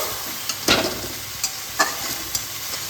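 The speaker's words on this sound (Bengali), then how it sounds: "আমি এইটাকে কষিয়ে নেব" Coriander powder and spices sauté in a pan with a constant close sizzle, broken by several quick stirring scrapes at uneven intervals, with no voices.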